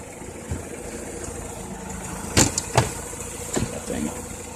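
A 2004 Mazda RX-8 rotary engine idles smoothly with a slight exhaust tap from a loose tip, a steady low hum broken by a few short sharp knocks near the middle.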